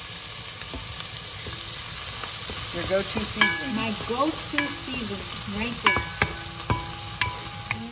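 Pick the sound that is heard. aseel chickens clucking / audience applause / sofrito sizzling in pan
sofrito sizzling in pan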